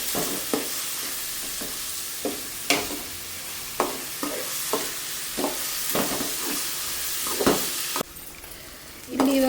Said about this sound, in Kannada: ಇದು ಸ್ವಲ್ಪ ಚೆನ್ನಾಗಿ ಗೋಲ್ಡನ್ ಕಲರ್ ಆಗೋ ತನಕ ಫ್ರೈ ಮಾಡ್ಕೊಬೇಕು